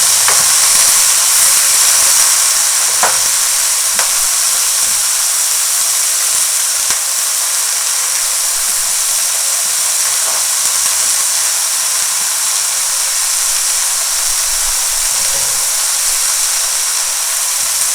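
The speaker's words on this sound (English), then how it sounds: "When you're sauteing your onions, you don't want to get too much color on them." Onions sauteing in a pan as the first step of a tomato sauce, a steady broad sizzling hiss throughout with a few faint clicks and no talk.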